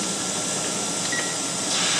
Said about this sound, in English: We'll let this vent steam for 10 minutes, and then we'll put the weight on.